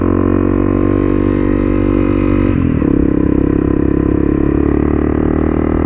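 A Honda CRF 250L motorcycle climbs a hill with a steady, loud single-cylinder drone, briefly dipping and shifting gear partway through before pulling on under load, close to the rider.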